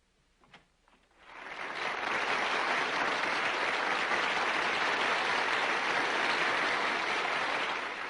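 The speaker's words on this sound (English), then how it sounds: "The applause you hear is for Governor Shivers" After a brief near-silent moment with a few faint sounds, applause for Governor Shivers swells quickly into steady, full clapping from a gathered crowd and keeps going to the end.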